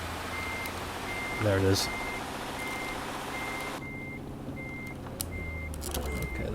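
Truck reversing alarm in Euro Truck Simulator 2 beeps in a steady repeating pattern through fog-bound play, with a continuous engine rumble underneath and a brief spoken comment partway through.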